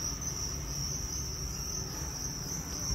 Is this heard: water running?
no